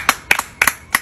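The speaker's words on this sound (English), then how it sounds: "Let's clap one more time for the good performance of our students." An audience claps for a students' performance in a few quick, sharp bursts of applause, close and loud, with no talk over it.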